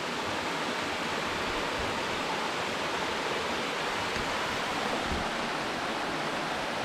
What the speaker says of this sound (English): we just came across another little waterfall and